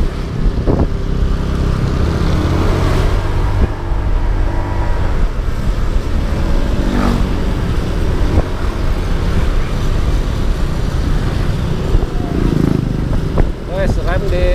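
A scooter with a freshly cleaned CVT and new oil revs and accelerates steadily on a test ride, loud and close, with wind rushing over the microphone throughout.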